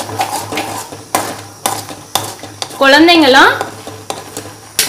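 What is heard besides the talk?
stirring urad dal porridge in a pot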